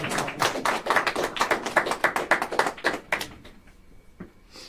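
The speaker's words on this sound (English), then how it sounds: "I'm going to give them a big round of applause." A small audience at a state leaders' meeting on Providence schools gives a round of applause: distinct hand claps that come quickly and close, then thin out and fade to quiet after about three seconds.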